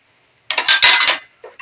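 A metal dish set over a cooking pot of curd-potato meat curry as a lid, heard as a loud close clatter and ringing scrape lasting under a second, then two small clinks after a brief pause.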